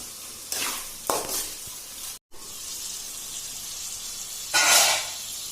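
Onions and tomato frying in a pan for an onion egg curry, a steady broadband sizzle with louder bursts as the contents are stirred, close and fairly loud, with a brief drop to near silence partway through.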